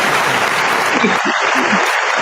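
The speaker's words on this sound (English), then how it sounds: "Wait, let me clap." Loud clapping, blending into applause, under continuous noisy background and voices.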